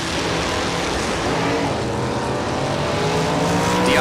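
Mark Yeager's 622 cubic inch Corvette drag car roaring through a run at a drag racing event, a loud continuous engine blast with rising pitch and crowd-level track noise, no pause throughout.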